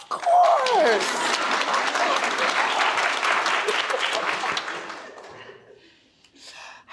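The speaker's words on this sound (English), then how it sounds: "Do you want us to clap for you, Mata?" A roomful of people at a community forum celebration claps steadily after a brief voice, the applause holding strong for about five seconds before fading into near quiet.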